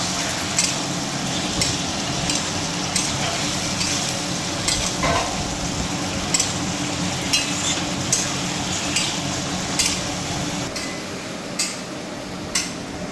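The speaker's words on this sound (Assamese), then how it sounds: "এতিয়া মোৰ মাংসখিনিও ফ্ৰাই কৰি আছোঁ" Meat fries in a pan for biryani with a steady, close sizzle, broken by regular clicks and scrapes of stirring throughout, with no voices.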